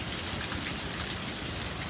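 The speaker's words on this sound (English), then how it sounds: "That's a lot of rain." Heavy rain pours down steadily during Hurricane Dorian, a dense, loud, unbroken hiss of water striking surfaces close by with no voices over it.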